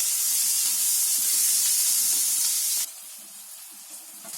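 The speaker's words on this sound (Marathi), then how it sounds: "हे कांदा अद्रक लसूण घेतले. त्याच्यामध्ये तेल टाकते." Onion, ginger and garlic sizzle in hot oil in a pan, a loud bright continuous hiss that drops abruptly to a quieter sizzle partway through, close up with no talking.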